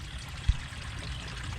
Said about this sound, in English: That way the water is able to go down and it gives it enough time to go back into the pond.